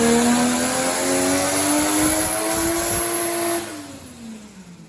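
A 1JZ-powered Mk3 Toyota Supra revs hard on a dyno, a loud, steady rising engine tone that climbs through the pull, then drops sharply as the throttle closes near the end. No one speaks.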